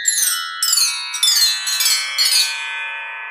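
Metallic bell-like tones from percussion bars set up like a tree bell, struck in a descending sequence, about five ringing strikes with overlapping sustained overtones, clear and close.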